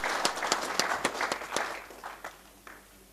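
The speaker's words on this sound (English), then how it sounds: "Applause, applause, ladies and gentlemen." A scattering of individual claps from an audience at an engineering iron and steel strategy launch, a handful of sharp hand claps that thin out and fade within a few seconds.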